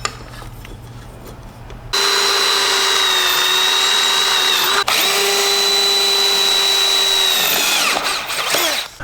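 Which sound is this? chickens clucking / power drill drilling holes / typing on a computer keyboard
power drill drilling holes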